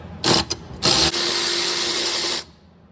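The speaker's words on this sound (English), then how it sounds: "these are 10mm bolts and nuts on here. So just gotta get them loose" Power tool whirring in short bursts then a sustained run of about a second and a half while loosening 10mm bolts and nuts on the upper ball joint of a 2000 Chevrolet Camaro, close and loud.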